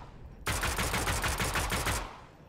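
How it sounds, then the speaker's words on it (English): The new combat pistol in Fortnite fires a rapid, evenly spaced burst of about eight sharp, loud shots that starts abruptly and stops just as suddenly, with no talk over it. "we're gonna test out the new COMBAT pistol"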